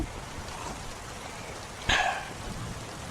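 Rain falls steadily outside a village tea stall on a stormy Kalbaisakhi night, a soft continuous patter with one brief louder burst partway through.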